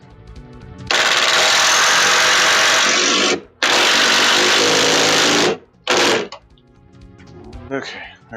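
Power drill boring a hole with a drill bit, loud steady whine in two long bursts and a short third burst, separated by brief pauses, with faint talk afterward.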